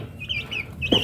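Young Rawamerta laying-hen chickens, one to two months old, cluck and peep nearby in a short burst of high chirps ending in a louder cluck.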